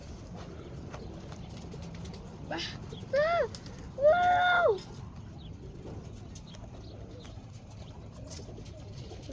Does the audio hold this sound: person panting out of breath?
no